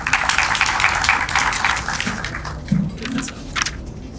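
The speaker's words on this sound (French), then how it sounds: "Mesdames, Messieurs, veuillez applaudir pour accueillir M." Audience applause welcoming a speaker at a student debate match in Mali, a dense steady patter of many hands clapping at moderate loudness that thins slightly toward the end.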